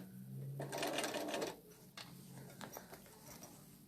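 A sewing machine stitches fabric in a short rapid burst, stops, then gives a few quieter brief runs, heard faintly and close with almost no talk.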